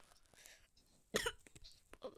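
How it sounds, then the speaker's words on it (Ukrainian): One sharp, close cough breaks out midway through a quiet, faint background of game sounds and low murmur. "Я звісно, не заражений, але чомусь кашлюю."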